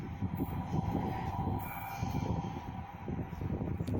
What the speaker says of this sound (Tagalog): Maririnig sa video ang tunog ng tren na tila malapit lang kay Ricardo.